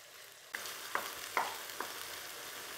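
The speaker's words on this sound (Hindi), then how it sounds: "5 मिनट हो गए हमें कीमा भूनते हुए।" Mutton keema fries in a karahi with a steady sizzle, broken by a few sharp scraping stirs of a spoon against the pan at close range.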